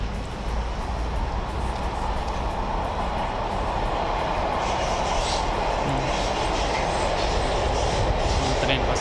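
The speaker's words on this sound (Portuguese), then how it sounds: "Um trem passando em cima." A train rumbles past overhead on an elevated track on an overcast day in Amsterdam, a steady, loud rolling clatter of wheels on rails that fills the whole stretch without a break.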